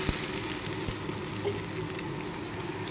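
Spices frying over high flame in a pan for paneer butter masala make a continuous soft sizzle, broken by a few sharp stirring clicks and scrapes.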